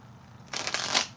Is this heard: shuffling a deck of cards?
yes